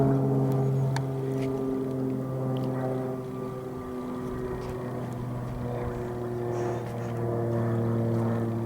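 A propeller plane drones overhead, a steady low engine hum with harmonic tones that swells and fades slightly over several seconds, moderately distant and without talk.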